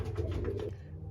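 A racing pigeon gives a short, soft cooing burst up close, a low throaty warble that lasts under a second.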